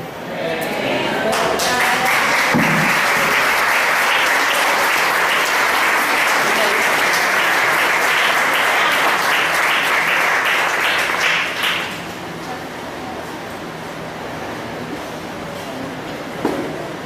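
A church congregation applauding, loud sustained clapping from many hands that fills the room for about twelve seconds, then drops off to a quieter murmur with scattered claps.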